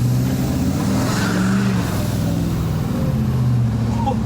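A 2019 Ford F-450 Platinum pickup engine rumbles loudly and close, its deep drone rising and falling as it revs and pulls away, rear tires spinning.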